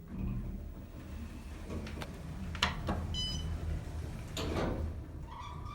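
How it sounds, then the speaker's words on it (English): An Otis Series 5 elevator door slides open with a mechanical rumble and a few clunks and rattles, followed by a faint whirring hum near the end. "Let's open the door."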